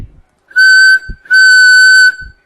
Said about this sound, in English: She blew her whistle hard.